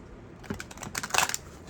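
A deck of playing cards being shuffled gives a short burst of quick riffling clicks and flutters, close and fairly faint, lasting about a second with no talking.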